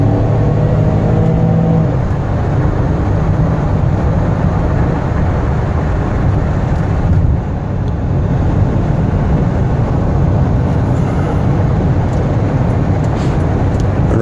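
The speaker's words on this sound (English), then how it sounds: "I'm gonna take it down the highway so you can hear it run, get it up to highway speeds." A 1998 Buick Park Avenue with 202k miles accelerates toward highway speed, giving a steady, loud engine and road roar that barely changes for the whole stretch. It sounds close and continuous from inside the moving car.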